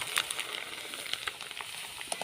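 Steady crackling sizzle of flattened rice (poha) frying in hot oil, close by, with faint clinks and stirring sounds and no talking.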